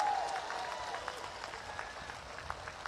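Distant crowd applause at an outdoor election rally in Makrana, Rajasthan, a steady wash of many hands clapping that fades slightly over a few seconds, with faint voices mixed in.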